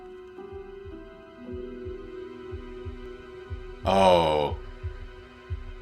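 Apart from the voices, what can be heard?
heartbeat sound effect in a TV show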